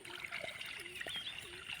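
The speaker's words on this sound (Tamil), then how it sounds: "இப்போ சூப்பு வைக்கிறதுக்காக தண்ணியை ஊற்றிக்கிறலாம்" Faint, thin trickle of water pouring into a pot for herbal soup, steady and close, with small splashy bursts now and then.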